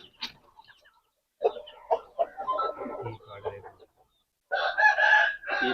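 Aseel chickens at a home coop: hens cluck and call in short bursts, ending with a louder sustained crow-like call, while someone talks among the birds.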